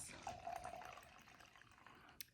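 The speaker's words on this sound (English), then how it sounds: "I'm going to pour it into my glass." Côtes du Rhône wine pours into a glass, a soft trickling splash for about a second that fades into faint dripping, quiet and close.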